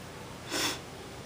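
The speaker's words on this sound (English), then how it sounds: "Sorry, I'm sniffling. It's allergy season." A single brief nasal sniffle from someone with seasonal allergies, a short breathy burst standing out against a quiet room.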